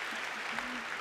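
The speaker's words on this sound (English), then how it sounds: "Let's give a big round of applause." A crowd applauds at the Regeneron ISEF 2024 opening ceremony: a steady, dense wash of clapping from many hands throughout the brief moment, with a faint voice underneath.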